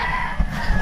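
Chickens and a rooster on a Filipino poultry farm give a brief, loud, dense burst of clucking and crowing, with no talk.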